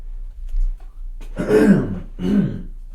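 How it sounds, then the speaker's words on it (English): Two rough, close throat clearings, one after the other, in an otherwise quiet room. "I just have to clear my throat"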